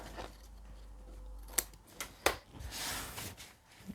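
Scissors snip the small corners off paper pieces for an interactive scrapbook album, a few sharp close cuts separated by quiet pauses.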